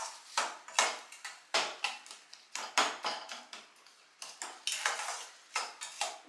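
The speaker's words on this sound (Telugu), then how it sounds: "చక్కెర యాడ్ చేసిన తర్వాత ఇదంతా బాగా మిక్స్ చేసుకోవాలి." A utensil scrapes and clinks against a pan while pineapple pieces are stirred with sugar, giving a quick, irregular run of close, bright metallic strokes with no talking.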